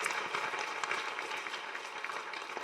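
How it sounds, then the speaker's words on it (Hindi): A church congregation applauds with a steady, fairly faint wash of many hands clapping, heard at some distance with no voices on top. "एक बार परमेश्वर के लिए ताली बजाइए"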